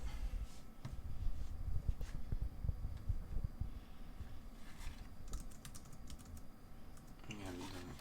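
Quick, uneven tapping on a Rapoo 9000M keyboard with short bursts of clicks, moderately close, against a low background rumble.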